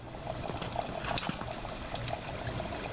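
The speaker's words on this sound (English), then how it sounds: "Now see the bubbling?" Hot oil bubbling and sizzling steadily in a backyard deep fryer at temperature before baby back ribs go in, a continuous close crackling hiss with no talk.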